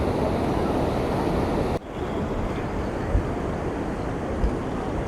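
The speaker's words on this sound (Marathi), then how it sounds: "पुलावरून पुराचं पाणी वाहत आहे" Loud, steady floodwater of the Kayadhu river in Hingoli roars over a bridge after heavy rain, a dense wash of flowing noise with wind buffeting the microphone and a brief dip partway through.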